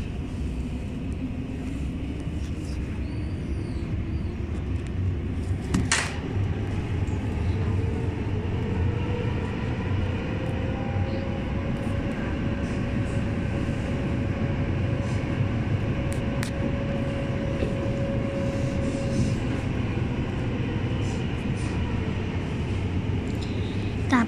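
Helsinki metro train running, a steady loud rumble of wheels and motor that holds all the way through, with a whine rising in pitch partway and a brief clank near the start.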